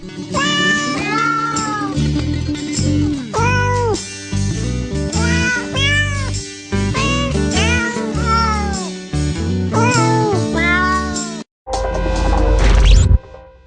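Cats meowing continuously, a loud, close chorus of overlapping, drawn-out meows and caterwauls that keeps going with only one brief break near the end.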